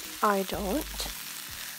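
Sliced French beans sizzle steadily in a hot pan while being stirred, a close, continuous fry with faint scraping, and someone says a few words over it.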